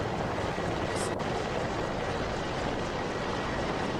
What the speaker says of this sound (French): Ça, c'est un hélicoptère ennemi, ça, c'est un hélicoptère américain.